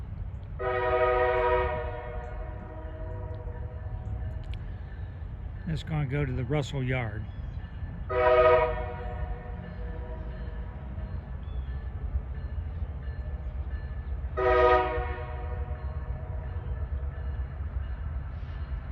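A Norfolk Southern grain train led by an Erie heritage unit sounds its horn in Kenova, West Virginia, giving several long blasts over a steady rumble of rolling cars, with someone talking nearby.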